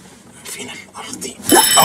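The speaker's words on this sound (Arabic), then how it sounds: "ده بتاع الانذار." An elevator alarm bell starts ringing loudly and continuously right after a voice speaks, a harsh, sustained electric ring filling the car.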